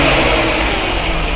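Nissan Skyline R32 engine revving loudly and close at night, a steady dense roar holding for over a second with no talk.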